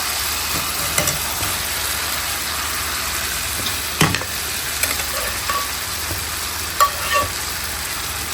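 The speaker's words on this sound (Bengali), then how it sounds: "এবার একটু আলু বেগুনটা কষিয়ে নেব এর সাথে।" Already-fried potato and eggplant are stir-fried with spices in a pan. A continuous hissing sizzle carries a few sharp spatula scrapes and taps, heard alone without speech.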